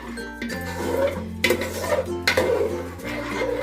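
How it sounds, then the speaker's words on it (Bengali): A spoon stirs a date palm jaggery rice pudding mixture in a pot, scraping and clinking against the metal in a few uneven strokes, close and moderately loud with no talking. "এইভাবে ভালো করে ঘেটে নিলাম"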